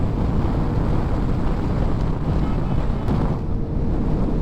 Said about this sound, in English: there's a huge difference in wind below the screen and above the screen